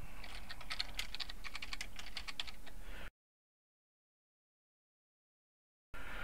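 Brisk typing on a computer keyboard while entering text in Inkscape: a close, steady run of key clicks for about three seconds, then a stretch of silence before the clicking starts again.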